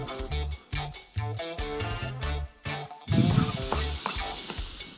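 Beef for tacos sizzles in a hot frying pan, a steady crackle punctuated by scraping and stirring strokes, with the sizzle swelling louder toward the end.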